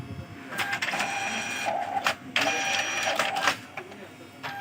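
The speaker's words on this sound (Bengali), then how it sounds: "এখন যে আইডি কার্ডটা প্রিন্ট হবে" A Zebra ZC300 ID card printer runs a test card print with its cover open after servicing, giving bursts of mechanical whirring and feeding noise separated by brief pauses, close by, with a voice talking over it.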